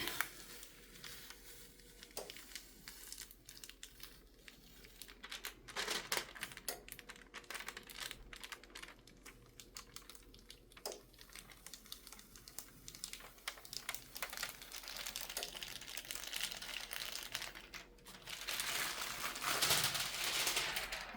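A DTF rhinestone transfer sheet is peeled away from a surface at close range, giving quiet crinkling, ticking and tearing sounds in irregular bursts that build to a louder rustle near the end.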